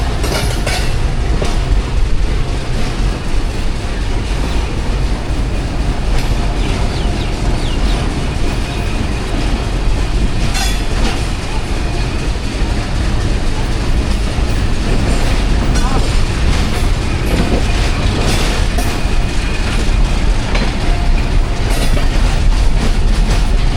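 The 13 UP Awam Express rolls out after departure from Sanjwal railway station, its steady rumble and clickety-clack of wheels on track continuous and close, with occasional faint voices underneath.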